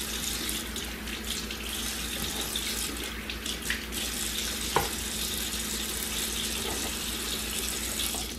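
A slow cooker crock being washed under a running kitchen tap, steady broadband water hiss filling the whole stretch with a few small knocks and clinks, close and continuous, no talking.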